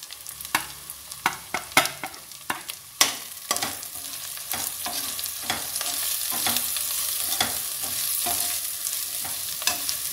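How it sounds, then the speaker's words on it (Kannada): Chilli, coriander, cumin, amchur, garam masala and turmeric powders fry in a pan for kabuli chana pulav. Sharp stirring knocks come quickly at first, then a louder, steady sizzle takes over. "ಒಂದು ನಿಮಿಷ ಇದನ್ನು ಹೀಗೆ ಮಸಾಲೆ ಫ್ರೈ ಮಾಡೋಣ ಈಗ."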